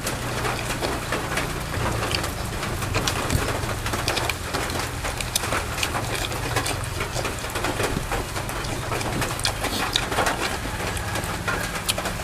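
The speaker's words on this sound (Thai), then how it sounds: "บรรยากาศฝนตกนะครับ" Steady rain falls across the whole stretch on the first rainy day of the year in Thailand, a dense close hiss of drops on surfaces, with birds and doves calling faintly in the background and a low hum underneath.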